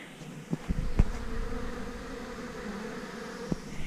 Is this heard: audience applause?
no